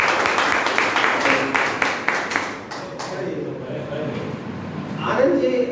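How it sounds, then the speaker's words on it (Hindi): An audience claps at a gathering, a burst of applause that peaks early and fades after a few seconds, overlapped by someone speaking. "एक जबरदस्त ताली होनी चाहिए।"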